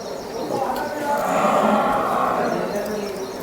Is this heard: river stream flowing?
no